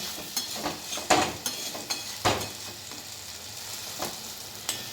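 Mashed banana flower (mocha) frying in a pan, a steady soft sizzle with intermittent scraping stir strokes and occasional louder clacks, close and alone.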